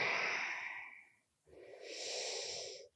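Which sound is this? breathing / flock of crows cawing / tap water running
breathing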